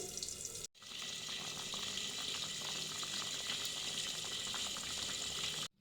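A steady bubbling, hissing rush of water boiling vigorously in a wok, constant and close, starting after a brief cut and stopping abruptly at the end.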